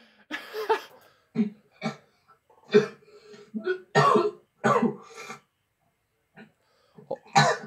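A series of weak, rasping dying coughs and throat sounds from a video game character, in short bursts with pauses between them, fairly close and moderately loud.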